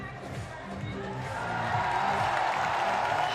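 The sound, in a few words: climbing competition crowd cheering as athlete hypes them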